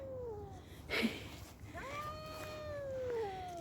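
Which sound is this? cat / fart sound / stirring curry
cat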